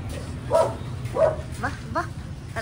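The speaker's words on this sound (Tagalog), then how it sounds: "nagatahol-tahol si Tisay." A dog barks in a rural Philippine yard: four close barks in quick succession, the last two shorter and higher, over a steady low background hum.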